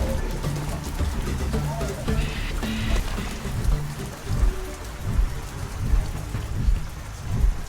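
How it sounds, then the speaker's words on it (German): Steady rain hisses and patters heavily in the video game Primal Planet, with low thunder-like rumbles and thuds pulsing underneath, while a voice talks over it. "Guck mal, jetzt regnet es wieder."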